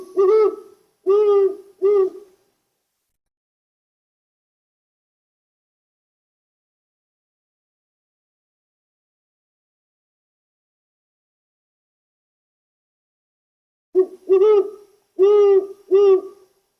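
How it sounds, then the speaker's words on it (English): A great horned owl gives deep, resonant hoots, a tight burst of three calls followed by a long silence and then another series of four, clear and fairly close with nothing else audible. "great horned owl"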